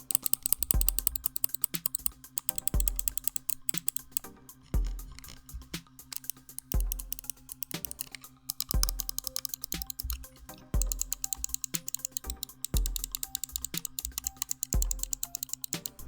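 Crisp clicks from the main buttons of an Xtrfy MZ1 wireless gaming mouse tap out in rapid bursts and steady runs, close up and dry, with no talking.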